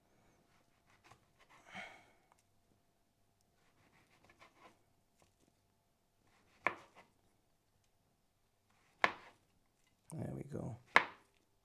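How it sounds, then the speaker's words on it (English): Knife slicing a beefsteak mushroom, a wet fleshy bracket fungus found on a beech tree, into strips on a board: a few soft, scattered cuts and taps, then a tight cluster of firmer chops near the end, with a brief spoken remark. "I'm just going to cut it into strips just like you would a steak."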